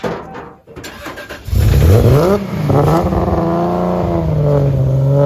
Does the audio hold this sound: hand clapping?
no